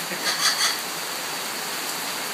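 Steady, even hiss of rain falling, with a few soft louder swells near the start and no voices.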